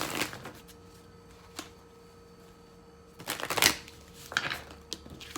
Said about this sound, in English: quickly shuffle some clarifiers